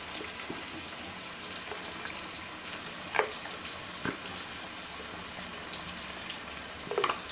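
Curry leaves and turmeric powder fry in hot oil for a fish curry, giving a low, steady sizzle with a few faint clinks and taps and no talk.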